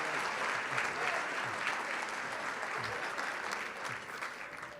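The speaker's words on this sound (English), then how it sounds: "A round of applause for this group." Audience applause fills a summit hall, a dense, steady wash of clapping from a large crowd that carries on evenly for several seconds without a break.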